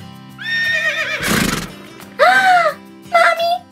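A toy rocking swing horse gives out a close, loud electronic neigh and whinny in several bursts, with a short clattering hoof-like rustle between the first two.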